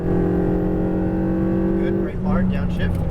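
A Ferrari 488 GTB's engine drones steadily at high load on a race track, then briefly drops in pitch and climbs again as gears change, with a voice talking over it.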